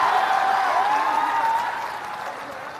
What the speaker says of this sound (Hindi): बजाइए ताली जरा।